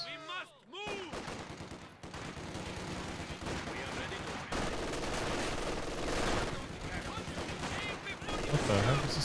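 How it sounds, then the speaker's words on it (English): Bursts of machine-gun fire from a video game, rapid crackling volleys running throughout at moderate level, mixed with other game sounds and a voice talking over parts of it. "Oh, double MGs."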